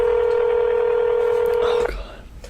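A telephone call with a loud, steady dialing tone held for almost two seconds, then breaking off into faint clicks and background noise. Voices are faint or absent.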